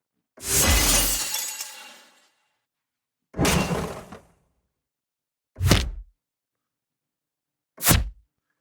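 Four combat impact sound effects from the UVI Meteor sound design toolkit, each a loud shattering, glassy crash, the first long with a decaying tail and the later ones progressively shorter and sharper, separated by silence.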